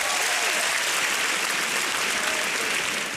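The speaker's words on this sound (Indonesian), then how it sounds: "Tepuk tangan dulu dong." Audience at a stand-up comedy grand final bursting into applause, a dense, steady, loud clapping that fills the hall throughout without pause.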